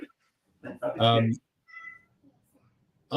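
A cat meows once, short and fairly close, in a room during a podcast recording, with quiet gaps and faint talk around it.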